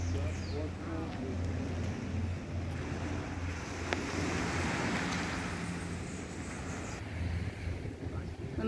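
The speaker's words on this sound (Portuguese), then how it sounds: "Chegamos agora aqui em outra praia, aqui na Ilha do Frade." Waves wash onto the beach at Praia das Tartarugas on Ilha do Frade in a steady, faint surf roar mixed with wind noise on the microphone, while a person speaks over it.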